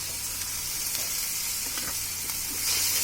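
Tomato paste hits hot oil in a pan while aloo dum cooks, giving a steady, close sizzle and crackle with faint stirring and no talking.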